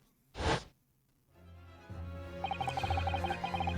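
The Venus Special firework in a video game: a sharp, loud burst like a gunshot, then a short lull, then rising crackle and a rapid string of bright popping bursts that carry on to the end.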